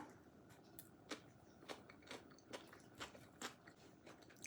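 Crunchy bites and chewing of an avocado cucumber salad topped with boiled egg, a steady series of close, sharp crunches roughly every half second over a soft background, with no talking.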